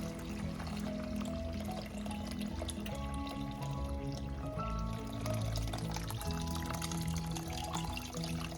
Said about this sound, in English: Gonna add water to this.